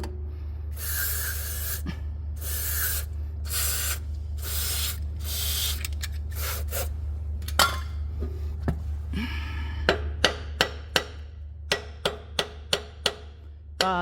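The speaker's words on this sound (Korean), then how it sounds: "일단은 망치로다가 WD를 뿌린 다음에 망치로 이렇게 약간 울려줘야 할 것 같아요." Aerosol spray of WD-40 hissing in long bursts onto a rusted part during a timing belt job on a gasoline Hyundai Tucson, followed by a series of sharp metallic hammer taps in an irregular rhythm, close and fairly loud.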